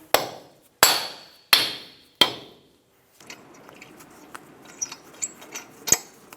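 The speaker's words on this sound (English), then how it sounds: "Tap it with a soft face hammer." Four sharp, ringing metallic taps from a soft face hammer striking a hub cap on a 2000-2006 Toyota Tundra front wheel hub in steady succession, then quieter clinks and shuffling.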